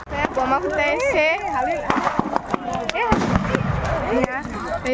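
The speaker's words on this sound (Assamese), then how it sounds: "বোমা ফুটাইছে" Firecrackers burst during a Magh Bihu bonfire celebration in Assam, sharp pops and bangs scattered across the moment, mixed under lively crowd voices and excited shouting close by.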